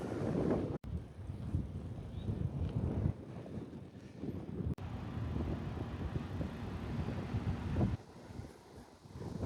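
Strong headwind buffets the microphone on a cycle trail, a loud, continuous low rumble of wind gusting throughout with brief dropouts, no talking.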